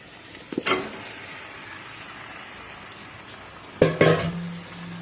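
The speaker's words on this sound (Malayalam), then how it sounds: "ഇതിലോട്ട് നമുക്ക് ചിക്കൻ ഇടാം." Chicken pieces dropped into ready masala in a pan, giving two bursts of sizzling and scraping as they hit and are stirred, with a quieter steady frying hiss between them.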